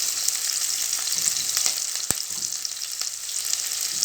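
Onion frying in a pan with a steady, bright sizzle, while a spoon scrapes and stirs through it in a few soft strokes and one sharp knock against the pan.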